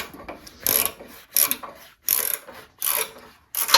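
A nut is wound out on a turnbuckle of a Bolens Ride-a-matic tractor, heard as four or five separate bursts of raspy ratcheting and rubbing about a second apart, close and fairly loud with short quiet gaps.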